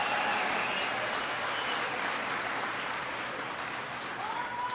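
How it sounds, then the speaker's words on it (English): Audience applauding a congressman at a political speech, dense steady clapping throughout, a large crowd heard from within the room. "Give Charlie a big round of applause."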